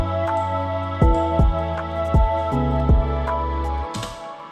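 Lofi beat built in FL Studio with piano chords, strings, vocal pad, bass following root notes and a bell melody, a steady looping groove with soft thumping kicks at a relaxed tempo.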